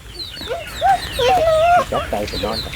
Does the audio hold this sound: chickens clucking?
yes